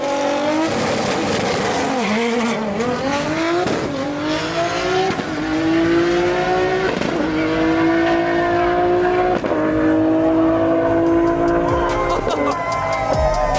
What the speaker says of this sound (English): we're gonna strap it to the hub dyno, crank it up on the new setup, and see what we can squeeze out of this RB